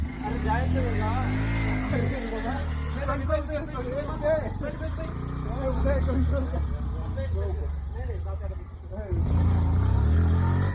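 A car climbing a steep Sahyadri mountain ghat road, its engine droning steadily and straining close by throughout, with voices talking over it.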